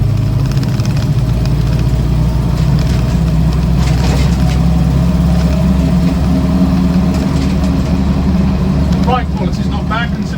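Idling engine of a Land Rover Series IIa 88-inch soft top, a steady low rumble that runs loud and unbroken throughout, with some faint chirping sounds near the end.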